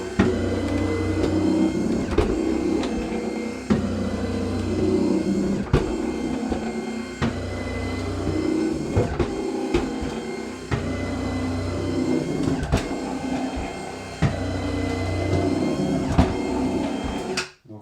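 An Almagic Minor Metra stair-climbing machine lifting a person, a steady loud motor drone with a rhythmic clunk roughly every second and a half as it climbs each step, running continuously until it stops abruptly at the end.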